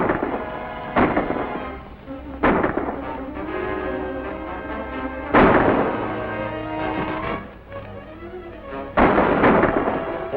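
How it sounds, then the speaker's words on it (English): Gunmen fire from behind a well in a 1939 G-men serial, sounding as several loud, booming shots spaced a few seconds apart, each one echoing and trailing into a reverberant rumble. "A bunch of men are hiding behind the well shooting at your friends."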